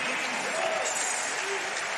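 Crowd applause rolls through the arena at a show jumping jump-off, a continuous even wash of clapping from many spectators, fairly distant and sustained throughout.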